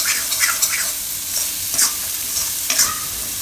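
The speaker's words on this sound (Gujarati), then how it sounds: "વચ્ચે વચ્ચે હલાવતા રહેવું." Winter vegetable soup cooking in a pot, stirred with a utensil: a steady low sizzle and bubble with repeated scraping strokes, close and moderately loud, no voices.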